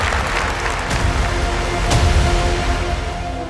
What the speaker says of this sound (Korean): 큰 박수하고 큰 함성을 한번 올려주시면 좋겠습니다